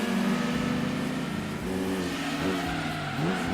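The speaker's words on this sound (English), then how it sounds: "All of us are spinning those wheels." Race car engines roaring with wheels spinning in the Gran Turismo 2 racing game, a loud steady drone with pitch shifting as revs rise and fall.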